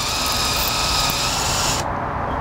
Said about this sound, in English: Just put it right in. And it strips right off.